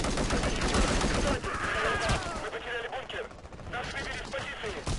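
Rapid bursts of ACWR rifle fire from a Battlefield match crackle loudly and continuously, with dense overlapping shots and a brief lull near the middle before firing resumes, while a voice talks over the gameplay.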